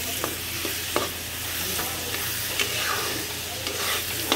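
Tomatoes frying in a pan for fish curry, with a steady sizzle and repeated scraping clicks of stirring at close range, no talking.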